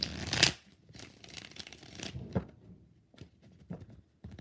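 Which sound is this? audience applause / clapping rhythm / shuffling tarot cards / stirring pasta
shuffling tarot cards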